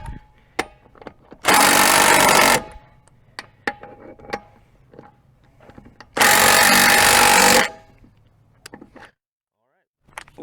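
A DeWalt 18V impact wrench on a cheap 3.6 amp hour battery drives 95 pound-feet lug nuts in two loud, sustained hammering bursts of about a second each, separated by quieter clicks and handling noise.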